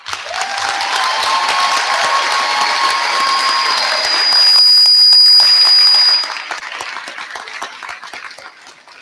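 A large audience at a high school graduation applauds loudly and continuously, a dense wash of clapping that swells midway and then thins out toward the end.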